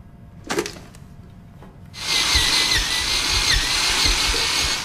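After a brief knock, a power drill whirs steadily for several seconds with a high-pitched motor whine and rhythmic low thumps.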